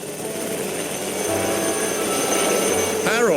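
A helicopter's rotor and engine drone steadily throughout, rising slightly in loudness with a faint rising whine near the end, in an animated railway-island children's story.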